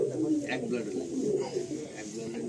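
Pigeons coo steadily inside a pigeon loft at Barasat, a dense, continuous low cooing bed, while someone talks over it throughout.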